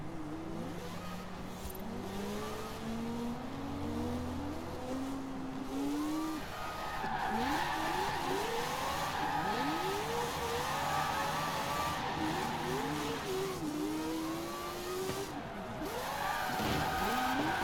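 Mazda RX-7 Spirit R with a four-rotor engine drifting in Forza Horizon 4, giving a loud, continuous rotary drone with repeated rev swoops and tire squeals throughout, no talking.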